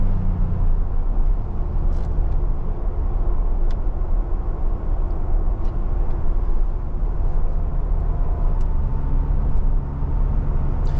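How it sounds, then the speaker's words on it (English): Steady, continuous road and engine rumble from a 2023 Ford Bronco cruising along a road, heard from inside the cabin, with low drone and tire noise holding evenly throughout and no talking. "This is a fun car to drive."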